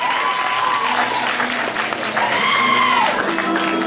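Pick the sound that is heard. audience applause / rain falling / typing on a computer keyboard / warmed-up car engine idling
audience applause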